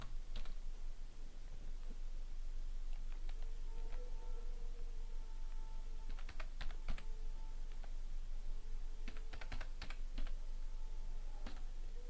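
Typing on a computer keyboard while entering price values into a tabbed list in Microsoft Word 2007, with bursts of rapid key clicks separated by pauses, close and steady over a faint background hum.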